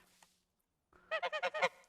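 Geese in the medieval farming game Medieval Dynasty give a quick run of about six nasal honks in a rhythmic burst after a quiet moment, clear and near.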